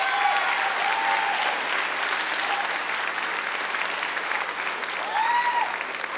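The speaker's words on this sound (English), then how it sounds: "Let's give them a big round of applause, too." Audience applause fills a high school spring sports awards night, sustained clapping from a large crowd, steady and moderately distant, with faint whistles now and then.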